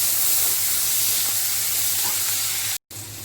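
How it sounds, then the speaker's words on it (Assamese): Onions and green chilies sizzle steadily in hot oil for an Assamese muri ghonto, a close, continuous frying hiss that cuts out for a split second near the end before resuming. "পিঁয়াজ আৰু জলকীয়াখিনি মই অকণমান ৰঙচুৱা পৰাকৈ ভাজিম।"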